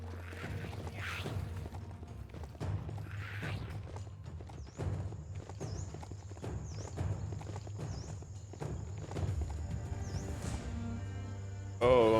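Horse hooves clip-clop at a steady walking pace in Biomutant, over low rumbling game ambience and music, with a thin high tone sweeping in the background.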